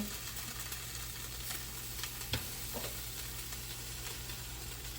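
Beans (madesu) fry in plenty of oil in a pan, giving a steady, even sizzle throughout with a few faint pops and clicks.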